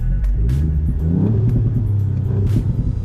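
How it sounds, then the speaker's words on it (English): A 2019 Ford Fiesta ST engine in sport mode rumbles close by, revving up and down a few times with deep throaty bursts and a low idle between. "Let's give it a couple revs."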